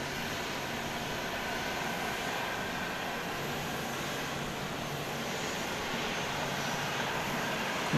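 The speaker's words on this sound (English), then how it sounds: "Got a plane pulling in for some R&R just below us." An airplane taxis at Dallas Love Field at night, a steady broadband jet-engine roar and whine holding at an even level throughout with no voices.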